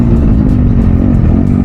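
A motorcycle engine revs loudly and close by, a dense steady roar with slight surges and no speech over it.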